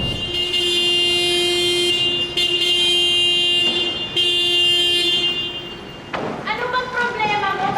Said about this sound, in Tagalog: Bakit busina ka ng busina?